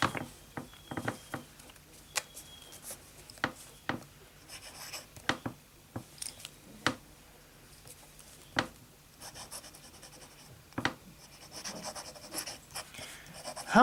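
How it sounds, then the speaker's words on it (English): A Sheaffer King's Gold fountain pen scratches across copier paper in short, quiet strokes and taps, close up with faint room hiss and no talking. "I take my pen, and again I start to write."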